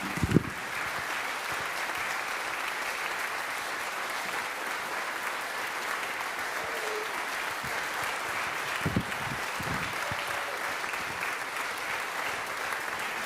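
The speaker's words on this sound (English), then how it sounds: "Give everyone here a round of applause." Audience applause at a live show, a steady wash of clapping held at moderate distance for the whole stretch, with a few louder nearby claps and brief vocal sounds poking through.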